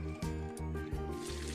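Water pours steadily into a flowering plant's pot with a gurgling, sloshing flow, close by and continuous.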